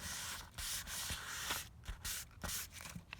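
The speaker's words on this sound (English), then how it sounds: "Rub the back vigorously with some good pressure," Steady, vigorous rubbing with firm pressure on the back of a photocopy transfer laid on a smooth surface, a continuous close scratchy hiss with short rhythmic pauses as the strokes change direction.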